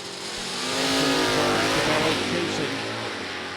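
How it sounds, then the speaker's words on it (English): A dragster and a Camaro roar down a drag strip at a hot rod reunion event, a loud engine sweep that swells, holds and slowly fades as they pass at distance, with crowd and announcer ambience beneath. "Dragster's way out there, accelerates a lot more rapidly. Camaro starts to close the gap."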